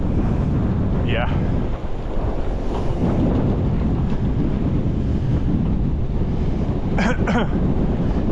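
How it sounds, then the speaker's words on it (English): Strong wind over 20 knots while sailing a boat from Chichester to Gosport: heavy, continuous wind roar buffeting the microphone, loud and unbroken throughout, with faint water and boat noise beneath. "it's going to be a windy one"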